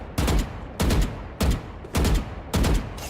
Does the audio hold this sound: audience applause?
no